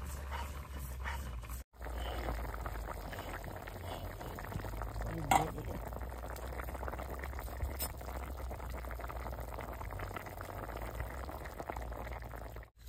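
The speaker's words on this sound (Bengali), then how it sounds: "আদাটা জিরাটা বাড়ছি, এখন উঠিয়ে নেব।" Ginger and cumin frying in a pan for a vegetarian bean and potato curry, giving a steady, close sizzling hiss that runs almost unbroken under a low background rumble, with one brief clatter near the middle.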